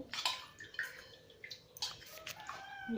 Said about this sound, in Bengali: চিনি আর জল দেওয়া হলো